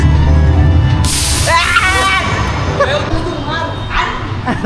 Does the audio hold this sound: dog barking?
yes